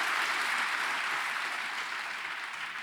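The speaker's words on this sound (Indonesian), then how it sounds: "Tepuk tangan jangan tanggung-tanggung buat dia." Sustained, vigorous clapping from a church congregation during a Sunday service, a thick even roar of hands that holds steady and eases slightly toward the end, no voices standing out.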